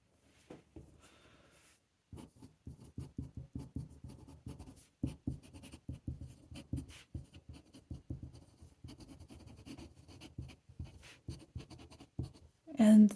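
Scratchy rhythmic strokes of a Pelikan Twist fountain pen with a medium nib moving across paper, soft and close in quick bursts with short pauses, and a brief louder handling noise at the end.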